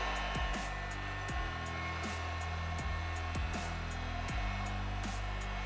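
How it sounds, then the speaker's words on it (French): A heat gun on its low setting warming a decal on a vehicle, giving a steady airy blower hum with a motor whine, broken by repeated clicks and bumps, at low volume. "vous prenez votre décapeur thermique, vous allumez sur la position 1, ça va chauffer légèrement"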